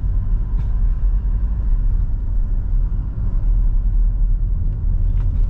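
A Toyota Innova Reborn drives at night, its engine and road noise a steady, loud low rumble throughout with no talk.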